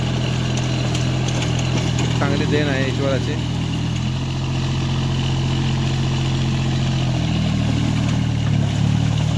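A mini rotavator tractor engine runs at a steady idle, its low even drone continuing throughout while someone talks over it.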